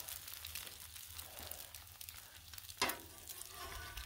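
Eggs frying on a Blackstone flat-top griddle, a steady close sizzle throughout with a brief sharper crackle partway through, likely as they are flipped with an egg ring left on.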